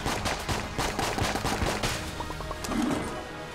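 Rapid, continuous gunfire from Enter The Gungeon, a dense stream of sharp shots for several seconds with a brief electronic blip near the end.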